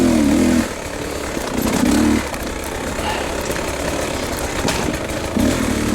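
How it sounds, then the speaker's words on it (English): Two-stroke dirt bike engines drone steadily on a private trail in the Allegheny Mountains of New York, loud and close, with the pitch swelling in short revs over a continuous buzzing idle and no talk. "Amazing how much low end torque these two-strokes got."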